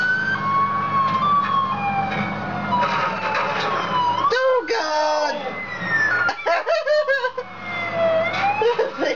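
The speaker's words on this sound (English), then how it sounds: "every time Blueberry calls Devin's cell phone, we hear Twinkle Twinkle Little Star, the little cop car that could edition." A toy police car plays a tinny melodic siren tune, wavering electronic tones that break off and stutter partway through, with people talking over and around it.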